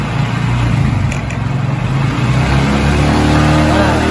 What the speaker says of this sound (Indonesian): jadi coba kita naikkan gasnya sedikit